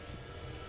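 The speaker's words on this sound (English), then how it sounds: "Don't excuse the train." A passing train gives a steady, loud, broadband rumble that holds unbroken through a brief moment, with no voices over it.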